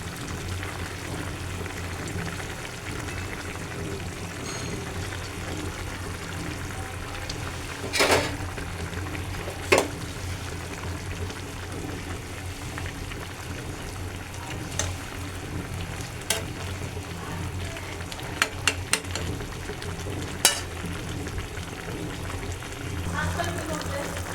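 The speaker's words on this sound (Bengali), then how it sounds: "আমি এখন চরচরির ভিতর টমেটো দিয়ে দেবো" Kachki fish and potato charchari sizzles steadily on a stove as tomatoes go in, a continuous frying hiss broken by occasional sharp clinks and stirring clatters.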